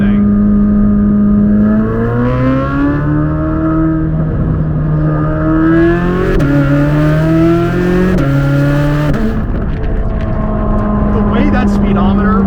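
Chevrolet C8 Corvette Z06 in Z mode accelerating hard, heard from the cabin: a loud, continuous engine drone whose pitch climbs steadily, drops briefly at several gear shifts, then climbs again.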